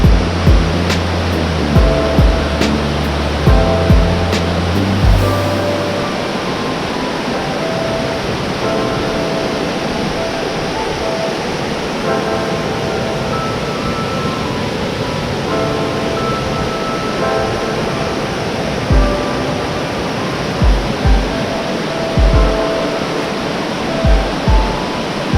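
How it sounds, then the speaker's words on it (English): Steady, loud roar of water pouring over High Falls on Lake Glenville, heard from near the bottom of the falls, a continuous broadband rush with a few brief knocks and thumps at the start and end. "I'm gonna show off the bottom of the waterfall real quick."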